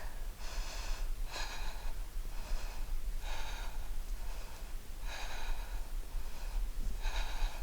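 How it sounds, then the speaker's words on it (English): Deep rhythmic breaths during a yoga handstand-foundations practice, with paired inhales and forceful exhales repeating about once a second, close and breathy with no other sounds. "Inhale, exhale, tap. Inhale, exhale, tap."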